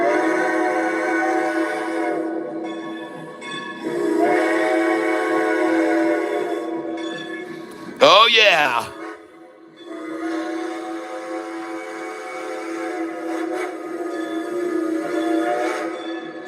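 A loud, sustained train horn blares in long chord blasts, broken midway by a sharp sweeping whistle burst, then resumes; someone briefly speaks under it.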